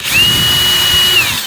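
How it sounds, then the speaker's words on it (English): A power drill bores wick holes into a block of candle wax on a tabletop, a loud, close, steady motor whine held at one pitch for over a second before winding down. "You want to be careful not to drill into your table."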